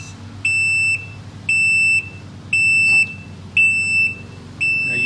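A Can-Am Spyder RT's high electronic warning beep after key-off, linked to a parking brake issue, repeats five times at an even pace, each tone lasting about half a second, loud and close with a low idle hum underneath.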